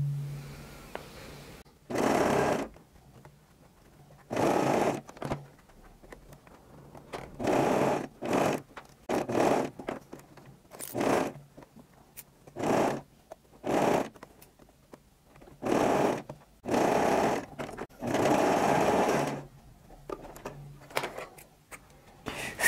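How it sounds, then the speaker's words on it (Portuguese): A sewing machine stitching a lycra bra cup in short bursts, a dozen close runs of rapid mechanical whirring separated by brief pauses, with faint speech between some bursts. "Eu vou fazer isso, passar uma costurinha, menos de um pezinho de máquina."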